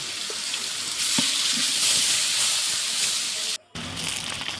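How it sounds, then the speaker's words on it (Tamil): Curry leaves sizzle and crackle in hot oil in a kitchen pan, a steady, close hiss with a few sharp pops and a brief cutout near the end. "கருவேப்பில் போட்டு எண்ணெய் ஊற்றி அப்புறம் பாருங்கள் நல்லா பொரியுது கருவேப்பில்"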